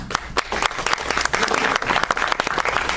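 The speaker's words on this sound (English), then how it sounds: "Thanks for the applause, guys" A convention audience at a media panel applauds steadily, a dense, loud patter of many hands clapping throughout with a faint murmur of the crowd underneath.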